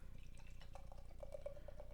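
Beer poured into a glass, a faint, quiet trickle with fizzing bubbles and small drips.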